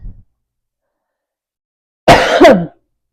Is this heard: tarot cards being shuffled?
no